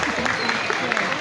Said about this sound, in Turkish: Bilezeri sakinlerinden gürültülü alkış gelir.